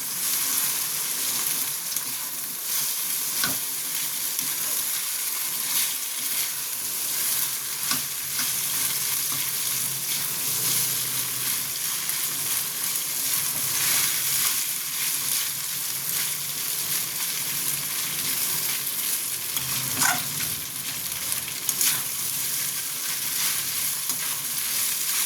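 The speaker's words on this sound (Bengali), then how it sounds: "চাউমিনটা দিয়ে এবার একটু ভালো মতন ফ্রাই করব।" Boiled chowmein noodles with vegetables are stir-fried in a pan, giving a steady sizzling hiss with intermittent stirring clatter and scraping, close and moderately loud with no talk.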